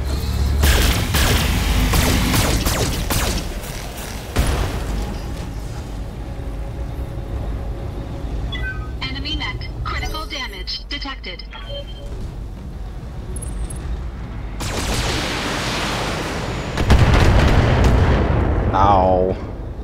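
Weapons fire in the BattleTech mech combat video game, loud booming blasts and cannon-like bursts that recur across the stretch, mixed with game sound effects and a voice talking over them.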